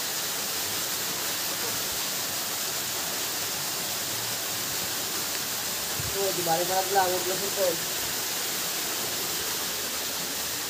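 Water trickles down from the mountain in a steady, hissing wash that fills the whole clip, while a person briefly speaks partway through.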